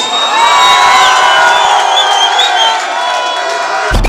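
A large crowd at a London house music club launch cheers loudly with scattered whoops and shouts, a sustained roar of excitement that holds steady before cutting off abruptly.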